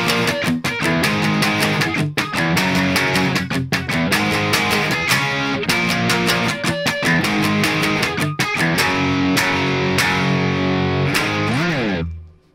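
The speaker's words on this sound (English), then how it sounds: "The pre-chorus section sounds like this." Distorted electric guitar chugs power chords through a pre-chorus, loud and dense with rapid, driving rhythmic hits and accent notes, ending in a brief slide before stopping.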